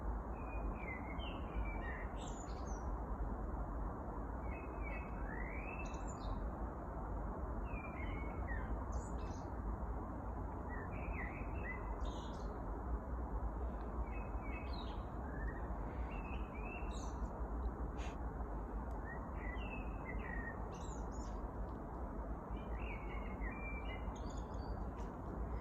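Many spring birds chirp and sing in short, repeated calls through the whole stretch, some near and some farther off, over a steady low background hum with no talking.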